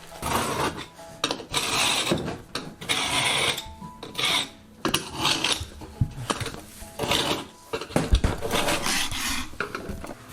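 Rough, rasping scrapes across a tile floor during a home renovation come in irregular bursts of a second or two with short pauses between, close and fairly loud, without talk.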